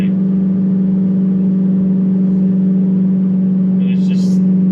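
A gated Audi R8 driving, its engine and exhaust a steady low hum heard from inside the cabin, moderate and even, with a person talking over it.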